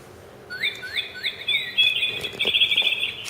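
A small songbird chirps and sings nearby, starting with a few rising repeated tweets and then breaking into a rapid, continuous high trill, clear and fairly loud with no voices over it.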